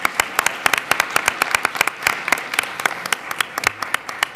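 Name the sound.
audience applause for panelists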